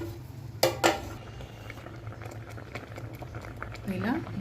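Water with ragi powder stirred in bubbles on the boil in a home kitchen pot, a soft steady simmer with a couple of sharp utensil clinks early on, while a person talks over it.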